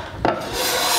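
An Axminster Rider No 80 scraper plane with a waxed sole takes a shaving from wood, giving a single close, loud rasping scrape that starts abruptly and continues as a steady rough hiss.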